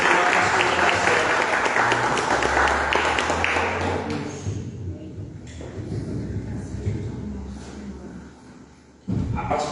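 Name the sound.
church congregation applause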